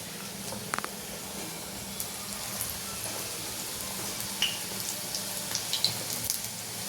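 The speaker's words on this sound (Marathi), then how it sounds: "आता आपण टाकून घेऊ छान छोटी छोटी भजी।" Small onion and corn bhaji fritters made with rice flour drop into hot oil, giving a faint, steady sizzle with scattered small pops and crackles, heard close with no talking.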